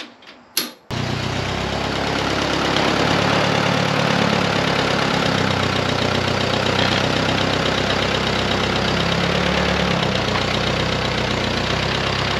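A Ford 8N tractor engine idles in neutral, steady and loud with a rough, knocking rumble that runs unbroken after a brief sharp start.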